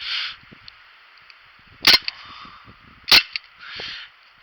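Two sharp shots from a Daisy Powerline 5501 air pistol fired outdoors in a field, spaced about a second apart, each a loud crisp crack with a short tail, amid quiet background with faint hiss.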